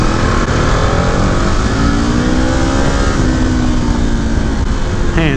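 A 2018 KTM 1090 Adventure R motorcycle engine drones steadily and loudly throughout, its pitch climbing slightly and then holding level, like riding at a constant speed with wind noise underneath.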